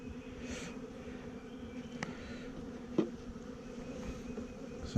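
Honeybees from a weak colony being moved into a nuc give a steady, faint buzzing hum that holds throughout, with a few light knocks and taps nearby.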